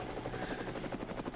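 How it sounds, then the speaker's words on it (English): Helicopter sound effect edited into a wrestling commentary: steady rapid rotor chopping with a dense whirring drone, close and loud, filling the whole brief moment with no talking. "edited in helicopter noises signifying that I'm going to be rescued"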